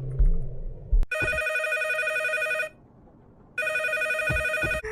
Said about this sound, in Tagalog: Hey, there's a telephone! There's a telephone!